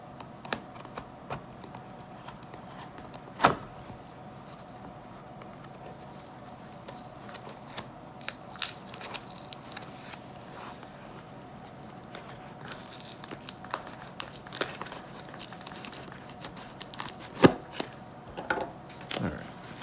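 A knife chops and cuts through a trout on a board, giving irregular sharp clicks and scrapes at close range, with a few louder knocks standing out against a quiet, steady background.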